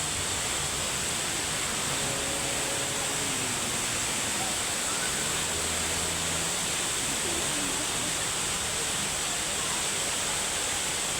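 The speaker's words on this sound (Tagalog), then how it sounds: "Waterfalls." The Hinulugang Taktak waterfall in Antipolo gives a steady, dense roar of falling water that fills the whole scene. Faint voices are barely audible beneath it.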